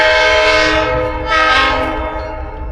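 A loud, continuous train air horn blares close by, swelling briefly in the middle, with a low rolling rumble underneath.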